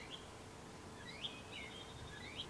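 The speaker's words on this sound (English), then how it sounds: "The birds are going in right now." Small birds chirp outdoors in a few faint, thin, scattered calls over a quiet background hiss.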